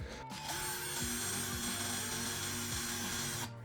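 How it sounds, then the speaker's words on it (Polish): An electric drill-driver fitted with a 5 mm bit bores a hole, giving a steady motor whine that starts abruptly, holds for about three seconds, then cuts off. "posłużę się wkrętarką elektryczną i wiertłem o średnicy 5 mm"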